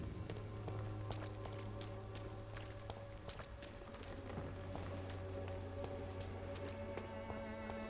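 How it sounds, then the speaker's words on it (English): Steady rain from the video game Vampyr, a dense even patter of drops on surfaces that runs through the whole stretch at moderate level, with faint scattered taps and no talking over it. "I'm hearing sounds of rain, but I can't tell if it's from the game or from, like, real life"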